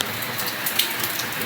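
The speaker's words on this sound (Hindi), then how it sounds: "स्कूल से आने के बाद तुरंत ही बारिश शुरू हो गई है, ये देखिए" Steady rain pours down right after school, a dense, even hiss of drops striking surfaces nearby, with a few slightly louder splats and no voices.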